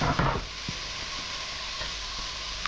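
Tomato and chili simmering in a pan with a vegetarian mixture, giving a steady soft sizzle and hiss throughout, with a few faint utensil clicks near the start.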